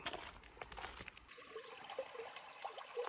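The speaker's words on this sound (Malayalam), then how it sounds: "ഇതാണ് ഞങ്ങൾ അലക്കാൻ വരുന്ന തോട്" Soft, continuous trickling and gurgling of flowing water, faint and close, with small splashy bursts and no talking.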